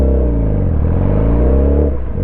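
Motorcycle engine pulling away as the rider eases out the clutch and rolls on the throttle, a loud, close, steady low drone that rises slightly in pitch before settling.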